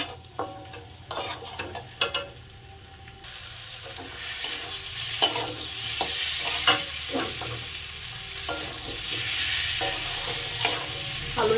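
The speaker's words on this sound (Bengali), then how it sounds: "এবার আবার একটু কষে নেবো" Fried potatoes and spices stir-fried together in a pan for a spicy Bengali tangra fish dish: a steady sizzle runs throughout while a utensil scrapes and taps against the pan at an irregular pace.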